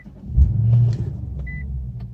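An Infiniti car engine cranks and catches, settling into a low idle rumble, with a short electronic beep chiming partway through.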